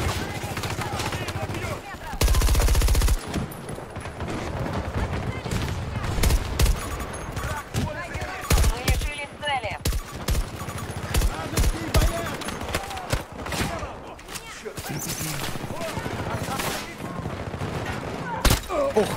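Gunfire in the video game Battlefield 2042: loud bursts of automatic fire and sharp single shots crackle throughout, with a dense, sustained barrage early on, under and between players talking.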